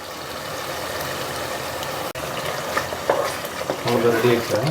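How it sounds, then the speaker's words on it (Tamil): Tomato thokku sizzles in separated oil as it is stirred in a pan, a steady frying hiss with scraping stir sounds building near the end, close and fairly loud. "இப்போ நம்ம வந்து இந்த பொடியை மட்டும் அப்படியே தூவி விட்டு கலந்து இறக்கிடலாம்"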